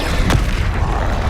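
Confringo spell blast in Hogwarts Legacy, a loud, rumbling boom with a brief sharp crack at its start, heavy low-end rumble continuing briefly after.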